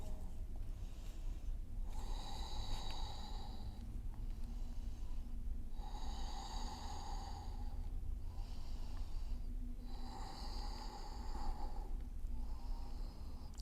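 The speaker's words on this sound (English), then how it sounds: "Take a few breaths here." Deep, slow breathing during a yoga hamstring stretch, five or six long breaths in a steady rhythm, close and fairly loud with a nasal, snorting edge, alone without talk.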